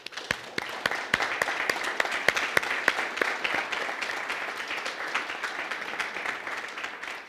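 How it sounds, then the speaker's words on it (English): Audience applause at a panel discussion on AI and data science: steady, dense clapping from a seated crowd with sharp individual claps standing out near the start, sustained throughout at an even level. "I would like one big round of applause for our"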